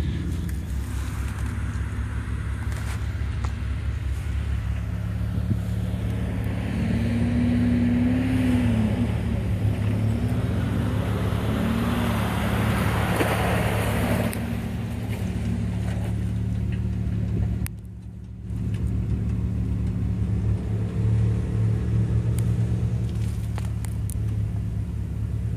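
A truck cruising along a road, its engine a steady close rumble that runs throughout with a brief drop partway, and a dog nearby chasing it.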